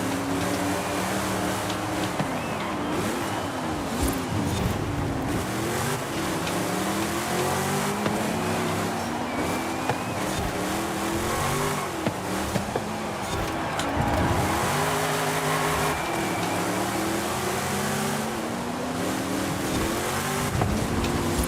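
A racing car in Forza Horizon 5 roars continuously, its engine revving up and down through gear changes with tire squeal mixed in, loud and steady throughout with no talking.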